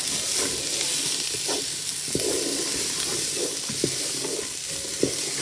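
Onion, pepper and celery sizzle in hot fat inside a Ninja Foodi multicooker while a utensil stirs them, steady frying hiss with several sharp scraping knocks against the pot.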